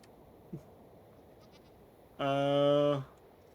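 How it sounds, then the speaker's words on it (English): A single drawn-out bleat from a baby goat in Minecraft, clear and nasal, arriving after a quiet stretch with a faint click and a few soft game sounds. "Look at the baby goat."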